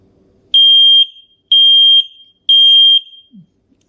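A Jemay ultra-thin photoelectric smoke alarm with a 10-year battery sounds three loud, piercing, evenly spaced high-pitched beeps, each about half a second long, heard close up with a brief low thump at the end.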